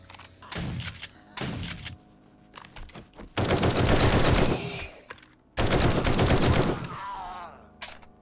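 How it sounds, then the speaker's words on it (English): Shotgun blasts in the video game 7 Days To Die, Alpha 21, come as several loud, close booming shots with gaps between, accompanied by low groans. "About a couple shotgun rounds to the face."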